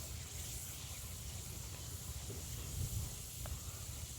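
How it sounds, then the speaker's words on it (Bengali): Ground spice paste goes into hot oil in a wok-style pan for a dried-fish and onion-stalk curry, giving a soft, steady sizzling hiss throughout, faint and close with no talk. "এবার বাটা মশলাটা আমি তেলে দিয়ে দিলাম।"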